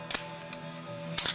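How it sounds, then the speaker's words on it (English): A camera shutter held open for one second gives two sharp mechanical clicks about a second apart, an opening snap then a closing snap, close and quiet against faint background hum. "So that's the shutter when it's open."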